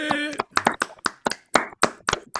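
An audience claps for Éric Legrand as he arrives at the FacWeek 2026 opening event, with sharp close claps in an uneven rhythm mixed with a presenter's voice.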